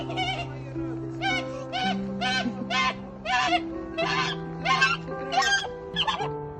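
A goose honks in a steady series of about ten loud, nasal calls spaced roughly half a second apart. A sustained tonal drone sits underneath, and no one talks.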